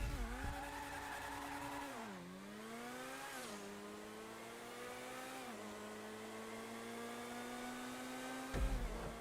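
A Vapid FMJ supercar in GTA runs a 0.65-mile straightish drag race, its loud engine climbing in pitch and dropping with each gear shift in a steady, close roar, with no talking.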